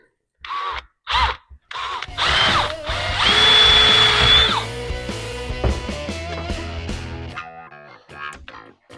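A power drill boring out small broken pieces during a repair, starting with short bursts and then a sustained, strained whine that trails into quieter mechanical clatter.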